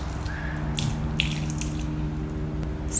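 Water poured from a can down the trunk of an indoor houseplant in a messy apartment, a steady close trickle and patter with a few small drips, no talking.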